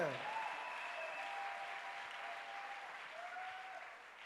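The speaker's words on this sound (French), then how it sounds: "Oui, acclamation à Jésus-Christ" A church congregation applauds and acclaims during a testimony, producing a soft, steady wash of clapping that stays fairly distant and even throughout, with faint voices mixed in.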